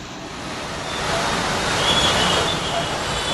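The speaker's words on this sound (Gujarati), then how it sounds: "અત્યારે ધોધમાર વરસાદ જે છે તે ફરી એકવાર જે છે અમદાવાદમાં શરૂ થયો છે" Heavy rain pours down on an Ahmedabad street as a dense, steady roaring hiss that swells slightly midway, with faint traffic noise mixed in.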